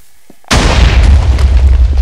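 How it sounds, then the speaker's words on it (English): A cannonball explodes in Super Pirate Battle Royale, bursting suddenly out of near silence into a loud, deep boom whose rumbling roar holds steady without fading, with no voices. "But mine, like, exploded in midair and almost took out your cannon"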